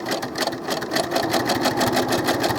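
Sewing machine stitching Velcro onto doll clothes, a steady rapid needle rhythm running continuously and close up with no talking.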